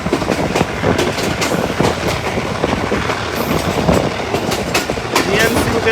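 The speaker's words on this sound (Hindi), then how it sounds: "DMCU के धाड़ने की आवाज़ सुने आप लोग" Chenab Express DMU train running on rails in Pakistan, with a loud engine roar under continuous rhythmic clickety-clack of the wheels, heard from on board.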